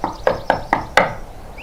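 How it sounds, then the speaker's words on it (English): Four firm knocks on a wooden door in an even rhythm, followed by a slightly louder fifth knock, close by. "knocking on the door"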